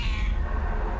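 A single close cat meow in a video game, short and drawn out over a low background rumble, with no talk.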